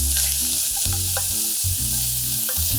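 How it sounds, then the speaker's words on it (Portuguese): Blumenau sausage sizzles and crackles as it fries in an already hot pan, a dense, steady spitting sound close by with no voices. "Vou colocar um pouquinho dessa linguiça aqui, só para poder aromatizar e saborizar o nosso molho."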